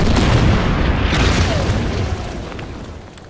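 Fortress guns fire in the wargame Order of Battle during a Winter War battle on the Karelian Isthmus, a loud booming blast that rolls out and slowly fades over a few seconds.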